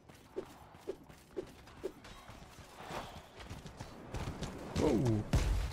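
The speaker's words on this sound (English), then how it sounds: "I heard the horse." Horse hooves clop four times at an even pace in Mordhau, followed by creaking, ratcheting mechanical noises and a louder metallic burst at the end.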